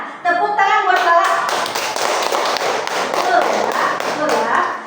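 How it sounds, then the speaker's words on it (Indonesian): A classroom of children claps hands together in a fast, rhythmic burst lasting several seconds, close and loud, while young voices chatter over it. "Nah, tepuk tangan buat Lala."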